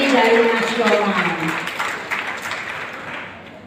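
Audience applause at a university agriculture faculty anniversary ceremony in Padang, a dense wash of clapping that starts loud and gradually fades over a few seconds, with a voice speaking over the start.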